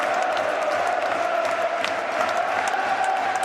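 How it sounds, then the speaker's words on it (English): A stadium football crowd roars after a goal that stretches the lead to four, a dense, loud and steady wall of cheering and shouting that fills the whole stretch. "And the crowd are loving it."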